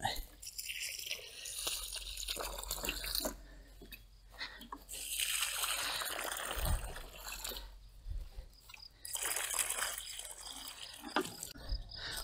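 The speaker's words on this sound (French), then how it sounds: "Je mets vraiment beaucoup d'eau." Water poured from a container into a planting hole for a tomato plant in a vegetable garden, giving a sustained liquid splash and trickle in several bursts, fairly close, with light crunching of soil between pours.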